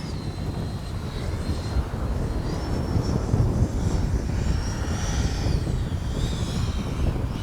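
A Freewing 90mm F-22 RC jet comes in to land with its gear down, giving a loud, steady ducted-fan roar with thin whining tones that shift in pitch as it passes.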